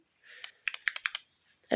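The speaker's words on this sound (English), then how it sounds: "I also got like a little paw print keyboard clicker." A quick burst of small plastic key clicks from a paw print keyboard clicker fidget toy, about six sharp taps in a loose rhythm, close and crisp.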